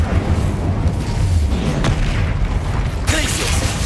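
A fiery spell blast from the Hogwarts Legacy video game, a loud, dense roaring burst that fills the whole moment, with a sharper flare near the end.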